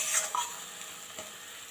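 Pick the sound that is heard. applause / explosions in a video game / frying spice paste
frying spice paste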